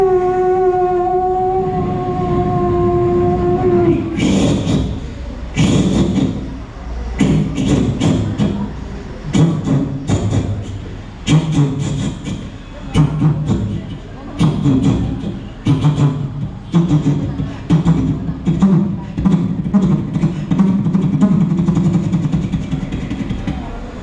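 A man vocally imitates an approaching train at an Onam school reunion meet, starting with a rising siren-like whistle, then loud rhythmic chugging bursts and clattering that build and continue steadily.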